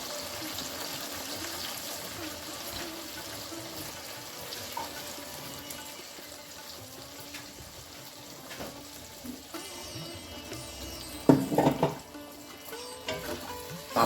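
Water pours and splashes into a pan of simmering fish curry being cooked with salt, turmeric and sugar, a continuous running wash with small clinks and stirring sounds, one louder burst of splashing near the end.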